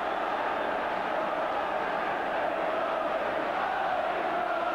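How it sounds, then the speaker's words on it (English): Old Trafford football crowd roaring after a goal in a United–Liverpool league match, a steady, dense wall of distant cheering that holds level throughout. "just listen now to this Old Trafford crowd"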